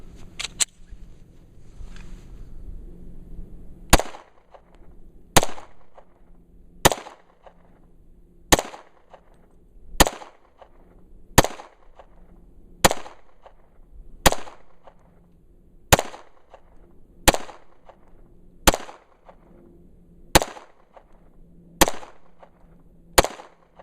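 A Glock 20C 10mm pistol fired freehand at 15 yards: about fifteen sharp, loud reports at a steady rhythm roughly every one and a half seconds, with quiet gaps between, no talking.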